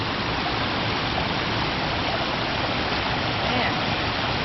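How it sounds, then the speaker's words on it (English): Water from a stream redirected with rocks rushes strongly down a trough into a spillway along a nature trail near Gatlinburg, Tennessee, a close, dense, continuous roar with no pauses. "They redirected the stream with some rocks and it comes down that way"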